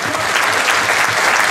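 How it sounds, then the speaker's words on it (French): Crowd at a caravan festival show applauding performers, dense, continuous clapping at close range throughout the short stretch. "On l'applaudit, on l'applaudit."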